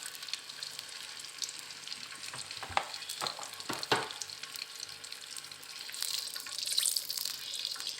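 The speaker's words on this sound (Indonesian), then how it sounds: "Kita goreng." Potato strips for homemade fries frying in hot oil, a continuous crackling sizzle with brief louder bursts and stirring clatter, close up, with no talking.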